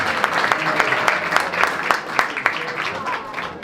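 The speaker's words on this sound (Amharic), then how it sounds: "አጨብጭቡለት በእናታችሁ በጣም ነው" An audience at an Adwa victory commemoration event in Britain breaks into sustained applause, with rapid clapping in a steady patter of individual claps standing out, and voices audible underneath.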